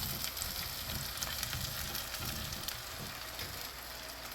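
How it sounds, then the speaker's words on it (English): Yellow pumpkin pieces go into a pan of half-cooked frying onions for a pumpkin and lentil curry, giving a dense, steady sizzle with crackling pops close up and no one talking. "Now I am going to add the pumpkin pieces."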